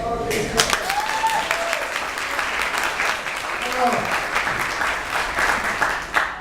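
A crowd at a Modesto campaign barnstorm event breaks into applause, dense clapping that rises and dips unevenly, with voices calling out and talking over it throughout.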